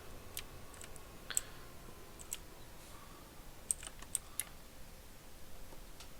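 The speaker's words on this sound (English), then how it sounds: "Sorry if you guys can hear my keyboard." Sparse clicks of a computer keyboard, faint and irregular keystrokes spaced across a steady low background hum, close but soft.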